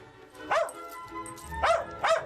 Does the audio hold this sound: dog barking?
yes